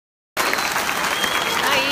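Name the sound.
audience applauding Sérgio Moro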